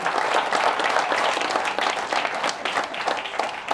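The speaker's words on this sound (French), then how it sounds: "On applaudit très fort Monsieur Jafar Dbar" Audience applause at a ceremony launching Moroccan days in Canada, steady dense clapping from a crowd throughout, fairly close and loud.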